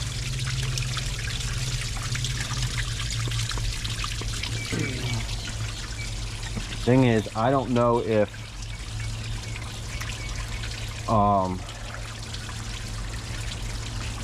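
Water pours and trickles steadily from a forklift under repair during a water pump test, a continuous close stream with someone briefly talking over it.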